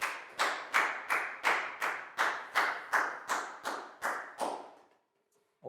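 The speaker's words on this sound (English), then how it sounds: "High five and a big round of applause for Preo" A classroom of Year 4 pupils claps for a classmate in about eleven loud, evenly spaced sharp bursts. Silence follows.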